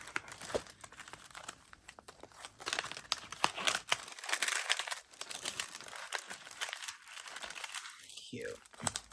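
Crinkly plastic packaging being handled and unwrapped from a SHEIN haul of junk journal supplies, close and busy, with rustling, crunching and tearing bursts throughout.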